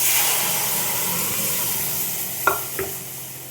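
Boiled dal poured into a hot tempering of dried chillies in a pan for a sour mango dal, a broad steady hiss of sizzling followed by two quick clinks of a utensil near the end.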